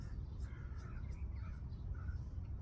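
Birds chirping and calling outdoors, scattered light calls over a steady low rumble of background noise.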